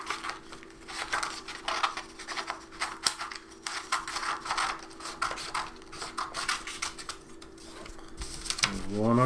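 Scissors cut strips of paper for a craft project, a steady run of close, crisp snipping and rustling strokes that continues throughout before a brief voice enters at the end.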